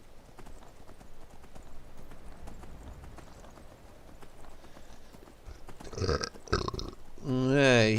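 Hooves clip-clop steadily in the Skyrim video game while riding a horse, a continuous rhythmic patter under a player's voice, ending in a louder burst that sounds like a horse's whinny.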